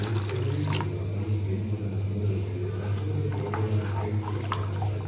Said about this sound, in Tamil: இப்போ இன்னும் கூட கொஞ்சம் தண்ணி ஊற்றிக்கலாம்.